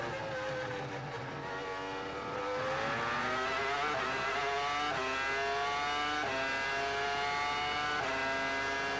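Formula 1 cars at the 2002 Canadian Grand Prix scream past with rising, high-pitched engine whines, sustained and loud as several cars pass and shift up through the gears.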